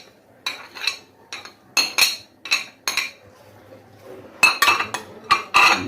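A spoon clinks and scrapes against a bowl while mixing a fruit chaat of cut banana, kiwi and apple, in irregular sharp taps, close by and fairly quiet.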